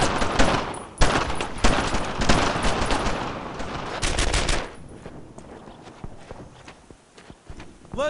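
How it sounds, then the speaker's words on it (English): WWII soldiers firing in Brothers in Arms, loud and close, dense bursts of rapid gunshots that ease into sparser, quieter shots and movement noise. "Taking some fire here! Firing! Covering fire!"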